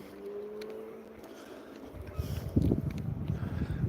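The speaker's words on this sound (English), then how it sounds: "Well, I can hear the motorbikes." Engine noise swells as motorbikes approach and pass close by, rough and rumbling, over outdoor wind noise.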